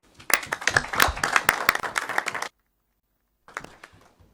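An audience at a university open campus event bursts into close, lively applause for the Principal, individual claps crisp and dense for a couple of seconds, then a sudden gap of silence before clapping resumes briefly.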